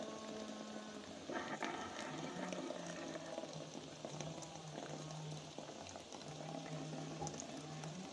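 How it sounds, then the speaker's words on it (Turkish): Hot water runs from a boiling samovar into a teapot holding tea, a soft steady pouring trickle over a low bubbling simmer, faint and close, with a light metallic hum underneath and no speech. "Semaferimiz 2 dakika kaynadıktan sonra çay koyduğumuz demliğimize suyumuzu çekelim."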